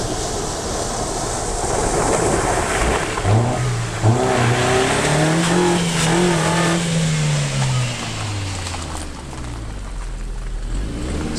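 A Suzuki Vitara 4x4 crawls slowly in first gear on an off-road club trail, its mid-pitched engine humming steadily close by with a rising and falling whine over rough ground noise, no talk.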